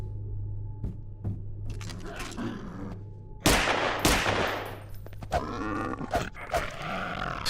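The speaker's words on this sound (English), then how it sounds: "I really like this new pistol model and sound actually" Pistol fire from a new weapon in the Half-Life 2 Episode 2 mod Aberration sounds as several sharp, loud shots, with grunts and a steady hum of game ambience and scattered clanks around them.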